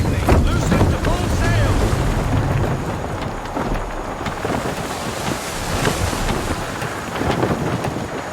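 Sailing ship moving across open water in Assassin's Creed 3, with a steady wash of wind, waves and creaking hull, loud and continuous from start to finish.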